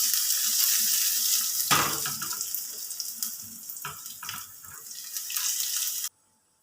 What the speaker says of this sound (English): I'm adding in the mixed spices with curry leaves.